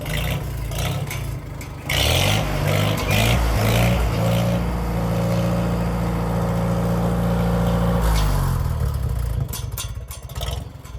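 A 1957 Farmall tractor engine idles with a steady, fairly loud low rumble and mechanical clatter, settling into an even running note for most of the stretch before the sound roughens near the end.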